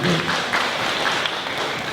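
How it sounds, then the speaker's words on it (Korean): An audience at a startup policy presentation claps for about two seconds, a steady, moderately loud patter of many hands with a few distinct sharp claps. "박수 치셔도 괜찮습니다"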